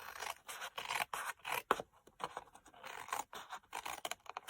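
Scissors cut through card paper with a rapid series of crisp, close snips and scraping strokes, each cut separated by short gaps, with no voices.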